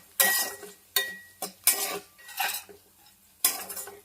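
A spatula scrapes and clinks against a pan while tamma kaya (broad bean) fry is stirred, coming in several sharp, close bursts with short pauses between them and no voices.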